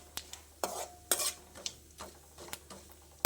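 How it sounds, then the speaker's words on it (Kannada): Cashew nuts are stirred and fried in a pan at home, with scattered scraping and tapping of a utensil against the pan over a faint sizzle; close and fairly quiet. "ಸ್ವಲ್ಪ ಗೇರು ಬೀಜ ಹಾಕಿ ಈಗ ಫ್ರೈ ಮಾಡ್ಕೊಳ್ತಿದ್ದೇನೆ"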